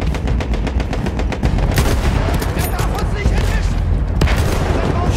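Rapid gunfire in the Battlefield 1 video game rattles in dense automatic bursts, loud and close, with booming impacts and a brief voice underneath.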